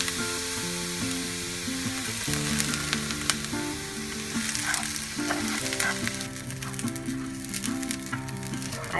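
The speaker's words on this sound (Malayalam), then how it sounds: "കഴുകിയ അരി നമുക്ക് വറുത്തെടുക്കാം." Washed rice roasting in a pan for ari unda, a continuous dry sizzle with scraping stirs throughout, while tonal background music plays underneath.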